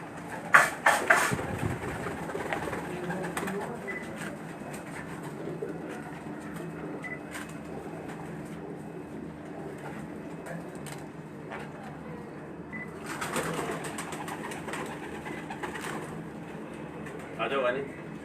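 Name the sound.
pigeons cooing on a rooftop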